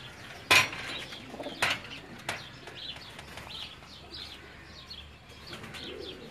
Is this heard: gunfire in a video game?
no